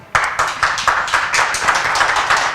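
Audience applause for a singer on the Podium Artist show, a loud, steady burst of many hands clapping in an even rhythm, close and sustained with no talk.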